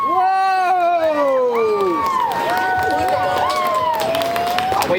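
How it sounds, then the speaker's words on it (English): Live audience at a Blades of Death stage show erupts in loud, sustained cheering and shouting, many overlapping voices whooping together across the whole stretch. "And you guys cheer."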